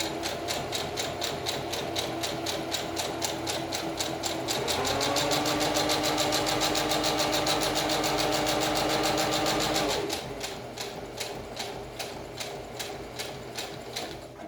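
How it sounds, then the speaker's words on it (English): A sewing machine top-stitches the outer edge of a homemade fabric mask, running a fast, steady needle rhythm that speeds into a higher, smoother whir for several seconds before easing back to the slower pace, with no talking. "we're top stitching the entire outer edge"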